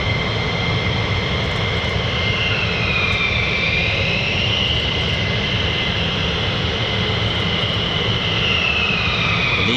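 A USAF 48th Fighter Wing fighter jet, an F-15E Strike Eagle or F-35A, taking off at an RAF airbase: a loud, sustained engine roar that fills the whole stretch without a break.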